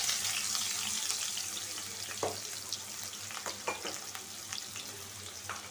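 Chopped onions go into hot oil in a wok and fry with a soft, steady sizzle, punctuated by a few sharp clicks and scrapes of stirring, fairly quiet and without talk.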